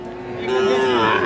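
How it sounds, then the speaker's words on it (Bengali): A young bull calf moos once, a loud, drawn-out low call close by that rises slightly toward the end. "এইটা সার বাছুর"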